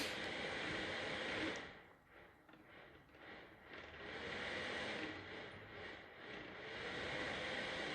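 An overloaded CPU fan spins with a steady whirring roar that dips for a moment, then builds back to a constant drone, heard close with no talk.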